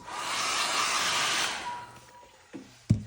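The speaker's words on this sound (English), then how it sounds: "It's a little bit more drying." A handheld dryer blows steadily over mixed media paint for about a second and a half, a broad loud whoosh that then shuts off, followed by a couple of light knocks.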